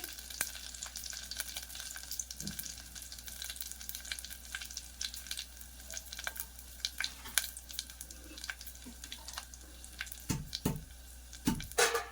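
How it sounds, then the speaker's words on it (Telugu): Oil tempering with chillies sizzling in a pan over low heat, a continuous crackling fry punctuated by sharp clicks and scrapes of stirring, close and moderately loud. "సిమ్ చేసుకోండి, తాలింపు అనేది మాడకూడదు"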